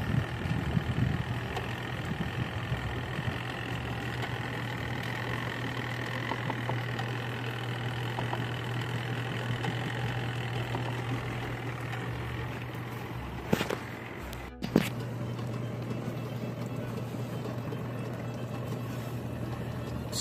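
A Costway mini washing machine running its spin cycle, giving a steady, continuous motor hum with a low drone throughout and a brief clunk near the end, with no talking.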